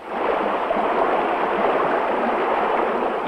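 Water pours steadily into the Chagan bomb crater, a continuous dense rushing and gurgling flow at constant loudness with no other sounds.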